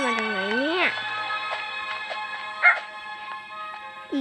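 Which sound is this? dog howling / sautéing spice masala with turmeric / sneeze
dog howling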